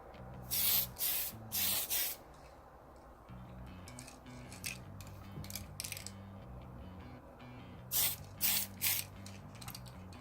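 Short hissing bursts of an airbrush or spray gun laying a light coat of automotive 2K urethane onto a scale model, close and in clustered spurts separated by quiet pauses with faint mechanical clicking.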